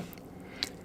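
Door lock on a Toyota Crown Crossover (AZSH35) engaging, a single short, soft click against quiet background.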